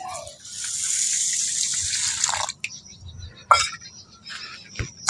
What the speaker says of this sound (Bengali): ওই বাটিতে করে এক বাটি দুধ দিয়ে দিচ্ছি